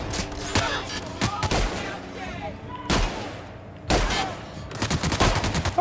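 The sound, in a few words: gunfire in the video game The Outer Worlds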